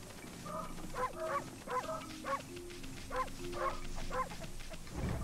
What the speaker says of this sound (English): My real life dogs are barking.